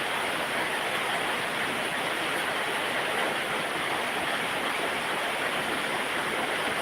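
Heavy monsoon rain falls in a loud, dense and unbroken roar, a steady wash of noise with no voices and no changes.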